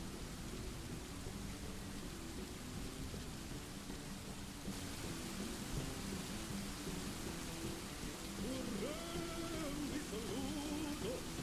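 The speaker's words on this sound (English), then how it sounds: "I don't know why the rain is louder than Tankard Basher, but fuck it." Rain in the video game Dwarf Fortress, a steady, fairly quiet wash of falling rain with low rumbling, running unbroken and joined by a faint tonal background later on.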